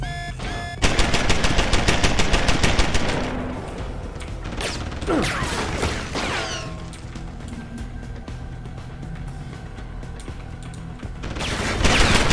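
A heavy turret machine gun fires in Deus Ex: Human Revolution, a loud close burst of rapid shots with mechanical clatter, then fades under lower game noise before another burst starts at the end.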